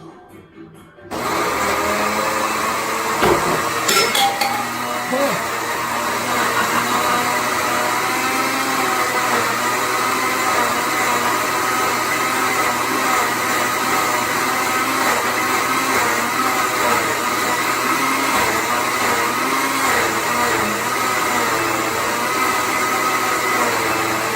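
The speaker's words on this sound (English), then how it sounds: "Then over here we have the blender, and it's ready to go." After a short quiet start, a blender whirs up loudly and runs continuously at a steady high pitch, droning on without pause.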